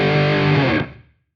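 Distorted electric guitar riff, heavy and thick, ringing for about a second before cutting off and decaying into silence, with no talking.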